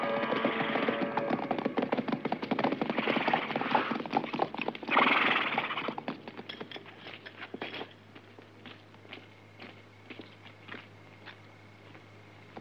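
Horse hooves clip-clop steadily across the whole stretch in an old epic film setting, loud and busy at first with other commotion, then thinning to sparse, distinct hoof strikes near the end.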